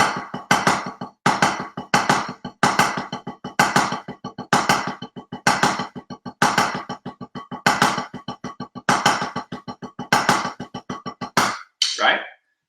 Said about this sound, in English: I did the first chunk slowly with double accents, it would sound like this